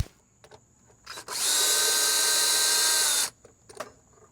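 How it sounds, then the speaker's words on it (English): A power drill runs at a steady high whine for about two seconds while backing out the screws of an outdoor light fixture's mounting bracket, close and loud, with quiet handling noises before and after. "what I'm going to do is unscrew this, move the bracket over, stick these wires in there, and then put the bracket back and screw it in."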